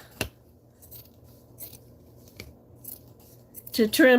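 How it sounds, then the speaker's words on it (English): Scissors snip through terrycloth and flannel fabric in a few faint, sparse cuts. A louder rustling burst of handling follows at the end, and a voice is faintly present. "it makes it easy for me to go back and trim"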